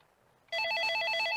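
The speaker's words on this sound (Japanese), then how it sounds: "あ、電話だ。" Electronic telephone ring from a PS2 video game, a bright warbling trill that starts abruptly after a quiet moment and repeats rapidly and loudly through the rest of the clip, with no talk over it.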